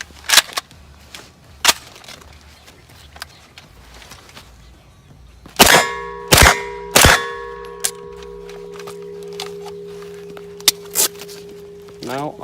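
A Pakistan-made POF MP5 machine pistol firing: a few spaced, sharp single shots, then a louder close cluster of three reports with metallic ringing, under faint background talk.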